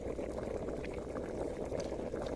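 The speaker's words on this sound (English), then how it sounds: "turned his head towards the sound of the bubbling water nearby" Water bubbles steadily nearby in a kitchen, a continuous low gurgling wash with faint splashes, no voices.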